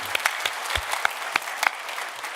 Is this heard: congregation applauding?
yes